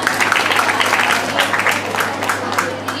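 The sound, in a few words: applause welcoming students at a school event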